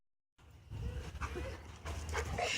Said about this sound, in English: Man, my dogs are being crazy.